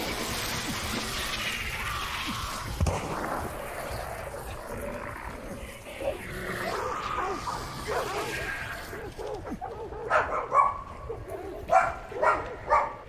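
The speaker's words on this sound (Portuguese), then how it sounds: "Olha o Buddy escutando os cachorros" Dogs bark in the video game Hunt: Showdown, a few distant yaps amid murky game ambience, growing into sharper, louder barking bursts near the end, with talk at times.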